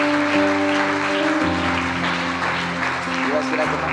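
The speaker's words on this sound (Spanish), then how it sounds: "bríndale el mayor de los aplausos al Señor" A congregation at a church service applauds in sustained clapping, with held musical tones running beneath it throughout.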